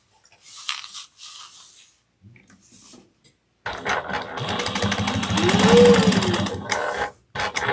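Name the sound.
sewing machine top stitching a bag pocket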